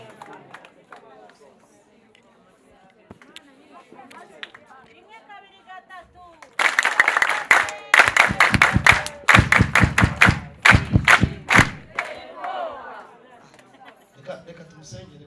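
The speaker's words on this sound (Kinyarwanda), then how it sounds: "Muyimera amashyi ya sipesiyare n'icyubahiro kiyikwiriye." A church congregation bursts into applause at a prayer service with a choir, loud sustained clapping in dense rhythmic bursts lasting several seconds after quieter speech, then fading back to voices.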